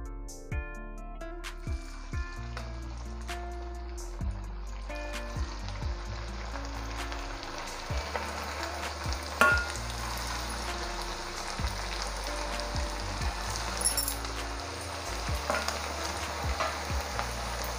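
Steady hot-oil sizzling of semolina and rice flour chakli frying, dense crackling bubbles that swell and settle, with occasional clinks of a utensil; no talking.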